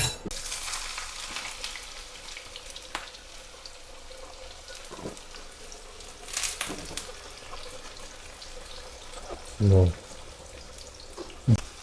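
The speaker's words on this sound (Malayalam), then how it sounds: "ഇത് എണ്ണ ചൂടായിട്ടുണ്ട് നമുക്ക് ഞാൻ ഇതിലേക്ക് ചെറിയുള്ളി ചേർത്ത് കൊടുക്കാം" Shallots dropped into hot oil in a clay pot for a fish curry give a steady, close sizzle and crackle lasting throughout, with a couple of brief louder knocks near the end.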